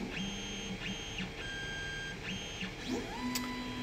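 A CR-10 S5 3D printer runs its bed-leveling probe routine, with repeated motor whines and short electronic tones sweeping up and down over a steady background hum at low volume.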